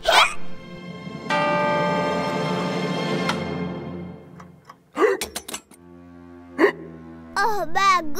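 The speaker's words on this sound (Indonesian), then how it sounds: "Sekarang kau juga cegukan." Cartoon hiccups from the Masha and the Bear animation come in a few short, sharp bursts over a bed of music and sound effects, with a character's voice also heard.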